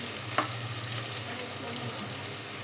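Onions and green peas sauté in a hot pan for potato kootu, giving a dense, close sizzle with one sharp spoon knock near the start.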